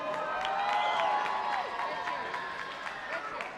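Fight night crowd at an arena boxing event cheering and yelling in a steady roar, heard from a distance at moderate loudness, with shouts and whistles rising over it.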